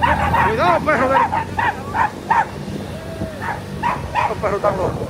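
Several dogs bark and yelp excitedly in rapid, overlapping bursts, close and loud, on a street during a daytime business-closure patrol, with some breaks and a vehicle or crowd noise underneath.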